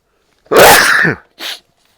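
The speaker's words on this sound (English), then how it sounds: "I sneezed on camera" A person sneezes once, close and loud, with a short breathy sniff or after-sound a moment later.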